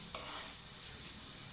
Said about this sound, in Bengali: দিয়ে এবার একটু মাংসটাকে ভালো করে আমরা কষিয়ে নেব